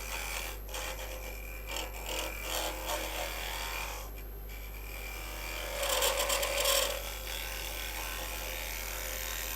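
A woodturning tool cuts into spinning wood on a lathe, throwing off shavings, giving a steady raspy scraping over a constant motor hum, with a brighter burst of cutting partway through.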